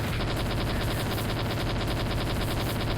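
Rapid automatic AK rifle fire in the video game Brazilian Drug Dealer 3: a steady stream of evenly spaced shots that carries on without pause, loud and close, with no talk.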